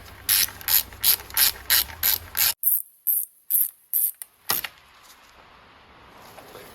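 Rapid ratchet clicks tightening the rocker cover bolts on a Citroen C1 engine, several quick bursts in a row, then a pause and a few slower, louder clicks, close up with no talk.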